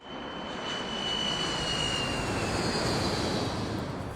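An airliner plunges in a steep dive, its engines roaring as a loud, continuous broadband rush that swells over the first second and then holds steady, with a thin high whine running through it and no voices.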